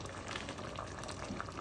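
A pot of Guyanese chicken and squash curry simmers quietly, giving a soft, steady bubbling hiss with no one speaking.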